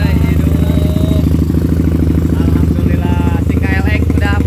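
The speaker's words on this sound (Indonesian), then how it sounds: "Alhamdulillah, si KLX udah mulai hidup." A Kawasaki KLX motorcycle idles steadily after starting, a loud close engine rumble running throughout, with people talking over it.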